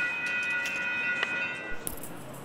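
A Metro Gold Line light rail train in South Pasadena rumbles past at moderate distance, a steady mechanical hum with tonal whine and a couple of brief clanks near the end, with no voices.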